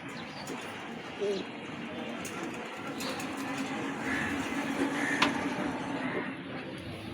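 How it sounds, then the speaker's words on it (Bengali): Pigeons coo softly over a steady outdoor hum, with occasional chirps and faint flutters, and voices murmur in the background. "এইখানে অনেকগুলো কবুতর আছে"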